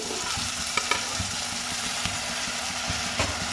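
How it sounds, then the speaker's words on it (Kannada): Tomatoes dropped into a pan of frying onions, a constant close sizzle with scattered clinks and scrapes of stirring, no speech. "ಈಗ ನಾನು ಟೊಮೊಟೊನ ಹಾಕ್ತಿದ್ದೀನಿ"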